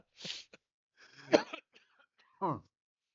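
A person in a coughing fit gives several sharp, close coughs in quick succession, separated by short quiet gaps.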